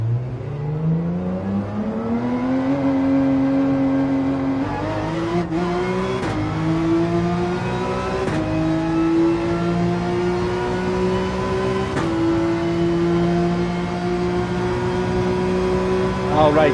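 Race car engine in Gran Turismo 7 on a practice lap, a steady high-pitched drone climbing through the gears with brief shift dips, sustained and close throughout.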